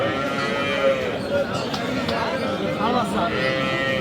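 Cattle, including Friesian cows, low and bleat nearby amid a busy crowd of people talking at a cattle market, with drawn-out moos rising over the chatter.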